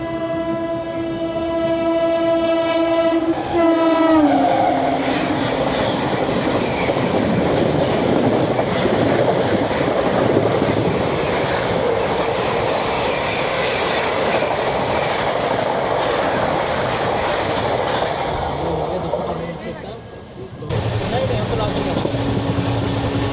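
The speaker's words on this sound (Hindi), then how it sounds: "Mahabodhi express coming." Mahabodhi Express rushing past at close range as a passenger train on an Indian railway, opening with a long loud multi-tone horn blast, then a sustained roar of wheels and clattering carriages that fades and resumes near the end.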